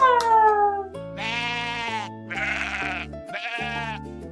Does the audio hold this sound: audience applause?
no